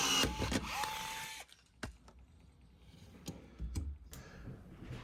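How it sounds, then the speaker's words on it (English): A cordless rivet gun works rivets on a Husky toolbox drawer slide: a loud, close motor whine first, then sharp snaps and clicks spaced through a quieter stretch. "The cordless gun definitely makes quick work of it."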